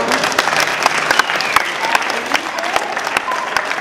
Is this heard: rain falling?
no